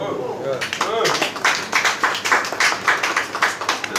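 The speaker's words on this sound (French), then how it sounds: "On peut l'applaudir, mesdames et messieurs." Guests applaud at a wine award ceremony in a restaurant in Mauritius, brief speech at the start giving way to a dense, lively round of clapping that builds and holds.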